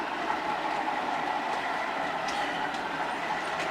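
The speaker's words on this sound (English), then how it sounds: "I'll now show you my Class 47 running with the new wheel sets" Model Class 47 locomotive running on a DCC layout track with new wheel sets, giving a steady continuous rushing hum with its sound system engaged and faint repeated clicks over the run.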